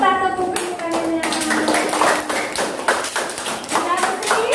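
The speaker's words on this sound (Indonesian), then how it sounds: "Kita tepuk tangannya" A group of people clap their hands together in a busy, rhythmic patter of taps that starts after a brief pause and continues steadily to the end, with a voice faintly audible at the beginning.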